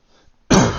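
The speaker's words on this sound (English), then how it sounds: "If you hear me coughing some, I apologize." A single short, loud cough close to the microphone after a moment of near silence.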